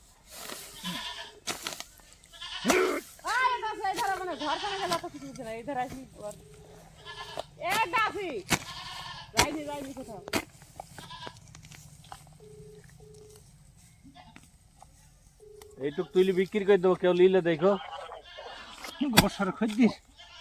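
Goats bleat repeatedly, close and loud, in wavering cries mixed with people talking nearby and a few sharp clicks.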